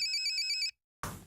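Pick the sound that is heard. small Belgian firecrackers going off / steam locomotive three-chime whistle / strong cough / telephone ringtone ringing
telephone ringtone ringing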